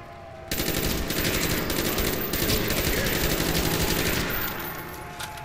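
Sustained automatic fire from a Galil assault rifle in Black Ops Zombies on the Shangri-La map, a loud continuous burst running for about four seconds after a brief quiet start, then tapering off.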